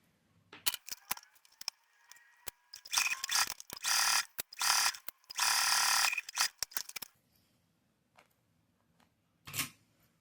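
A home sewing machine fitted with a zipper foot stitches fabric in several bursts of fast, whirring mechanical rattling, separated by clicks and pauses as the work is adjusted, close and alone.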